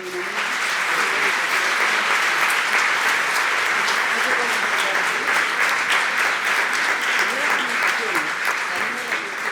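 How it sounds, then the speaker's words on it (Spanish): Applause from a conference audience at the closing and awards ceremony fills the room, thick, continuous clapping at a steady loud level with some crowd murmur beneath. "Primero, un aplauso para toda esta gente."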